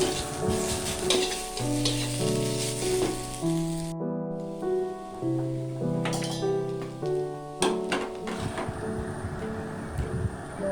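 Prawns for chingri malaikari, seasoned with dried red chili powder, fry with a steady sizzle as they are stirred in the pan, with occasional scraping strokes, while tonal background music plays throughout.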